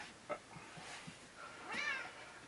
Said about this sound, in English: here is a cat